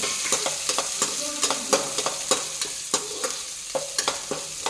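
Onions frying in a pan, an even sizzle overlaid by frequent rhythmic scrapes and taps of a spatula stirring, close and clear, with no voices.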